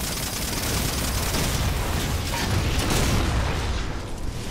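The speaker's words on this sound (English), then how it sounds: "5 shots from the fuel rod killed him." Sustained, dense barrage of heavy energy-weapon fire from the fuel rod gun in the Halo 4 co-op campaign, loud and continuous with booming blasts and no clear gaps between shots.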